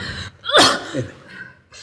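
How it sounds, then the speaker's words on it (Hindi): A woman with a heavy cold lets out a single sharp sneeze, preceded by a quick intake of breath and followed by a faint sniff, close and loud in a quiet room. "सवेरे से छींके चली जा रही हो"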